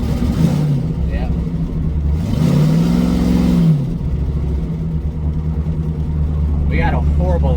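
A car engine with a bad exhaust leak revs up and falls back, a blatting, raspy rise and drop, with a person talking over and around it.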